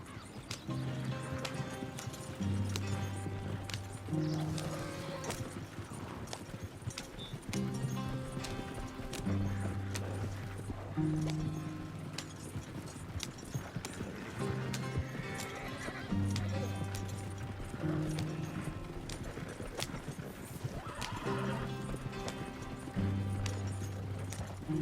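In Red Dead Redemption 2, a horse gallops with rhythmic clip-clopping hooves and lets out repeated neighs and whinnies, loud and close, with a rider's voice and other speech in the background.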